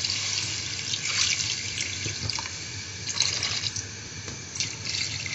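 Water runs from a tap into a cooking pot holding chicken pieces for shami kabab, a steady close splashing stream with small surges and bubbling as the pot fills, with no talking.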